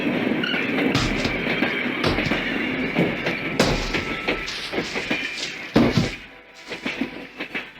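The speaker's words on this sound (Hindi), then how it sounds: "आज गाड़ी समय पर आई है।" Passenger train pulling into Rameswaram station, a rumbling, clattering approach with heavy thumps and clanks that rise and fall, then fade toward the end.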